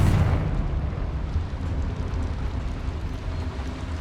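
A Confringo blasting spell in the Hogwarts Legacy video game sets off a loud, booming explosion that bursts at once, then rolls on as a dense, rumbling decay for several seconds.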